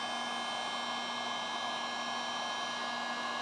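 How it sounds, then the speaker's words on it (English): A heat gun running on high while warming paint protection film on a car hatch gives a steady, loud blowing roar with a constant whine, unbroken from start to end. "I got my heat gun on high over here. Just gonna heat this all up really nicely"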